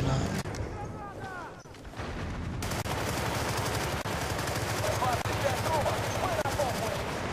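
A silenced SMG in Battlefield: Bad Company 2 fires a steady stream of muffled rapid shots amid battle noise, with someone talking over it.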